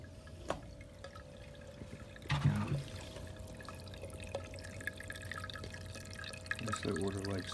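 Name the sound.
water draining through AC condensate drain line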